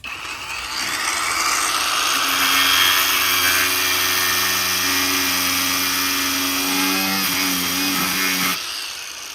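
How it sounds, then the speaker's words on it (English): An angle grinder cutting during a hands-on project, a loud sustained high whine with a steady tone that holds for several seconds and then cuts off near the end, with no voices. "Now, I'm gonna take that angle grinder back."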